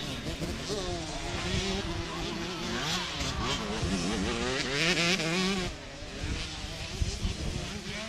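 125cc motocross motorcycles race on a dirt track in Thailand during the final lap, engines revving and whining in rising and falling pitch, mid-distance, under an excited commentator talking throughout.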